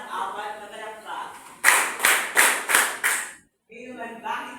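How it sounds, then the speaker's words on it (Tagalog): A classroom gives four loud, evenly spaced group claps in a steady rhythm, with talk before and after the clapping. "Magbibigyan natin siya ng 4 na palakpak."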